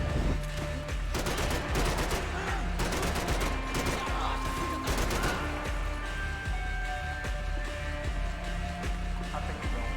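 Rapid, repeated bursts of gunfire in the video game Max Payne 3 crack continuously over a busy background, loud and dense, with a few separate shots between volleys.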